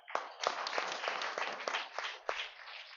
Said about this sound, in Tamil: கைதட்டுங்க, ஒன்றும் தப்பில்லை.